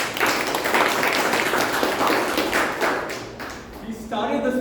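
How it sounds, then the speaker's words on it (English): A Toastmasters meeting audience claps for a speaker in a dense, fairly close burst of applause that fades after about three seconds, after which a voice begins speaking. "Please give a big round of applause."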